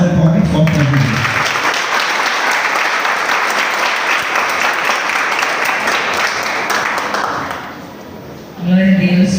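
Congregation at a Holy Spirit week church service giving pastor Raquel a strong round of applause, loud sustained clapping that fades toward the end as a voice returns.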